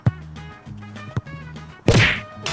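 A soccer ball is struck in a volley shot at goal during a girls' football shooting challenge: one loud, sharp thwack near the end, after a stretch of quieter background sound.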